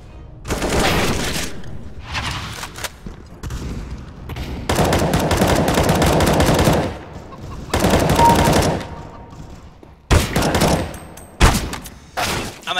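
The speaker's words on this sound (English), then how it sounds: "Automatic pistol." Bursts of rapid automatic pistol fire in Counter-Strike: Global Offensive crackle loudly in several sprays of varying length, separated by short quiet gaps.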